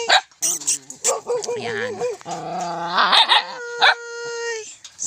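Four dogs on a rural citronella farm yelp, whimper and let out short howling bays in close, uneven bursts, with a brief spoken word near the start.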